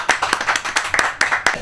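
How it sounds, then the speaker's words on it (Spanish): Hands clapping in a radio studio, a fast uneven run of sharp close claps from a small group, loud and bright with no talk over it. "¡Fuerte el aplauso!"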